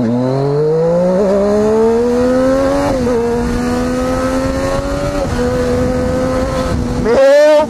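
A Triumph Daytona 675 R sport motorcycle from 2014 roars as it revs and accelerates through several rising pulls, loud and close, with a sharp high rev burst near the end.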